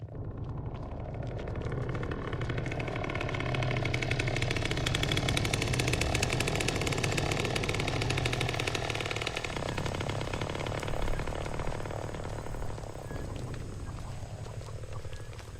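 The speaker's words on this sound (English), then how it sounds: "in outdoors, you also notice that the chainsaw sounds different" Leatherface's chainsaw running outdoors in Texas Chain Saw Massacre: The Game, a continuous droning engine rattle that holds steady for about nine seconds and then shifts to a thinner, more distant tone as outdoor ambience comes through.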